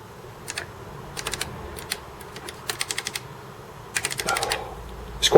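Typing on an Acorn Archimedes A3020 computer keyboard, recorded very close: irregular clusters of sharp clacky keystrokes, some in quick bursts, against a low steady background hum.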